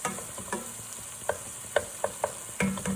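An egg is stirred and scrambled in a hot frying pan with mushrooms, a steady sizzle under a series of sharp utensil scrapes and taps on the pan, irregular and close; no voices.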